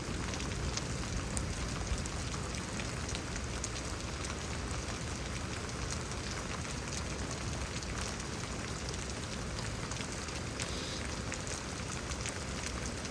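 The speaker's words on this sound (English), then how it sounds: "that kind of rain, that is not the pleasant type of rain" Heavy rain pours steadily in Houston, Texas, a dense, even hiss of drops hammering surfaces without pause, fairly close and with no voices over it.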